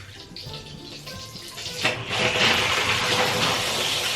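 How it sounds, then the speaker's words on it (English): A Japanese smart bathtub fills with water from its spout, a steady close rushing splash that grows louder and fuller partway through and then holds as a dense, continuous wash. "You can turn the bathtub on even while you're in the shower, so it's filling up."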